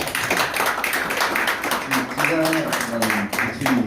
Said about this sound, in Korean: 우리 김문수 지사 박수 한번